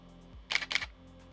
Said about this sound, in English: That's the shutter sound on there.